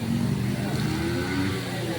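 Motorcycle engine revving close by, a loud continuous rumbling drone with a slight rise and fall.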